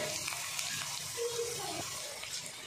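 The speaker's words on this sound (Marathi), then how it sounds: "आता इकडं कांदा छान तळलाय" Onions frying in a pan make a soft, steady sizzle, faint and close, with a brief thin squeak of a utensil partway through.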